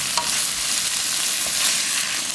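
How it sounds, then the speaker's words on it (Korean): Fernbrake (gosari) stir-fried over high heat in bubbling garlic seasoning, giving a loud continuous sizzle with occasional scrapes of a utensil stirring the pan, no voices. "그럴 때 고사리를 넣어서 볶아주면 돼요. 센 불로 달달 볶아주세요."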